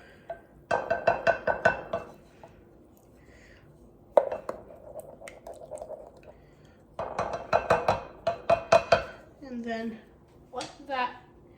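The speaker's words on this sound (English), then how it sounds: "Give that a stir with a wooden spoon until the sourdoughs are dissolved." A wooden spoon stirs a sourdough and instant yeast mixture in a bowl, giving bursts of rapid rhythmic scraping and clinking against the bowl, separated by pauses, with some speech-like sounds near the end.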